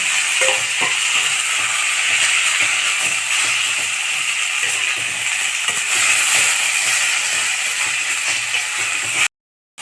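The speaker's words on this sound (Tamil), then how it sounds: "உப்பு சேர்த்துட்டு நல்லா வதக்கிட்டு 2 நிமிஷம் போதும்." Mint and coriander leaves sauté in a pan for mint chutney, producing a loud, dense, continuous sizzle with light stirring scrapes, close up, before the sound cuts off abruptly near the end.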